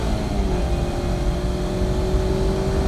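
A 2016 Mazda MX-5 engine on a race track holds a loud, steady high rev, a smooth sustained drone with a rising tonal whine and no speech over it.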